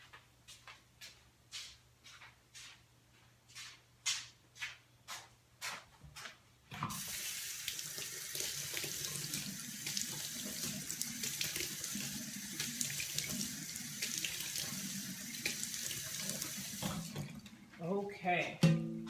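A bathroom faucet gushes into a sink while someone rinses their face, steady loud running water for about ten seconds after a series of soft rhythmic taps and small clatters, ending with splashes as it shuts off.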